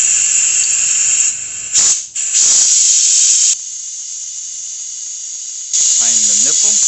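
Air-powered brake bleeder tool hissing in loud, steady bursts while bleeding the brakes on a 2015 Nissan Quest, with brief pauses, then a long quieter stretch before the hiss resumes near the end alongside a voice.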